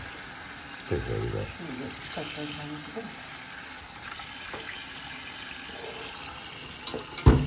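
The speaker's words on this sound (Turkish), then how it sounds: "Şimdi tekrar bir daha sularını dökelim" Water splashes and pours from a pot of boiled sheep's head and trotters in a kitchen, running and spattering in bursts while people talk nearby.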